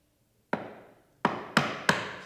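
A chisel chopping out wood for a mortise and tenon joint strikes four sharp, close knocks, one alone and then three in quick succession, each ringing briefly before fading.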